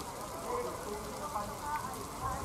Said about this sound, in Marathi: पुण्यात गेले 48 तासापेक्षा जास्त काळ पाऊस सुरू आहे